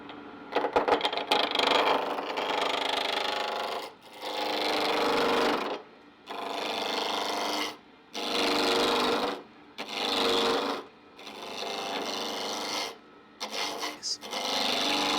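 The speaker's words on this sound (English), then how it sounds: "I use my roughing gouge to turn the rectangle into a cylinder." Roughing gouge cutting a rectangular wood blank into a cylinder on a lathe, a loud continuous rasping shred repeated in several passes of a few seconds each, separated by brief pauses.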